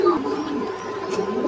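A pair of Giribaz pigeons in a coop on a pigeon farm give a brief, close, continuous low cooing burble, with no talk over it.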